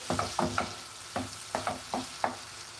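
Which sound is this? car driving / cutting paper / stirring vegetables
stirring vegetables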